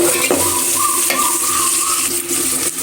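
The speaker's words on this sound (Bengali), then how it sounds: "আর কিছু তেল দিয়ে নিয়েছি আমি পেঁয়াজ বাজারের মধ্যে" Chopped onions fry in oil in a home kitchen, giving a steady, loud sizzle with occasional stirring scrapes throughout.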